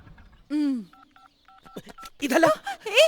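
A telephone number is punched in on a keypad: a string of short, evenly spaced touch-tone beeps. A voice is heard just before them and voices pick up right after.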